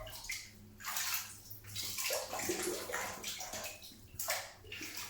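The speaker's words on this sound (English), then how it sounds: "Okay, let's wet the face." Water splashes and sloshes from hands wetting a face before shaving, coming in several separate close bursts with short pauses between them and no talking.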